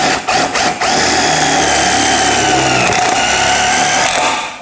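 A 12-volt Mollar CIDR12 impact driver whines loudly and continuously while boring into hollow galvalume metal, its high grinding pitch shifting slightly, after a few brief stuttering starts.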